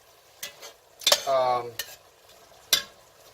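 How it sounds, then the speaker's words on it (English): Onions cook in a soup pot as a utensil stirs and scrapes against the metal, giving a few distinct clinks and a brief grating scrape over a faint sizzle, near and sparse. "we're just going to cook this down a little bit till the onions just start turning a little bit"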